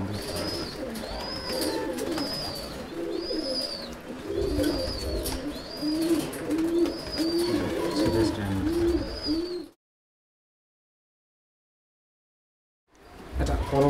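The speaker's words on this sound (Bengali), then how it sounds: "এটা পরবর্তী আরেকটা মাদি পায়রা" A female pigeon cooing, repeated rolling coos close by over a rustle of other birds, then a sudden silence before the sound returns briefly.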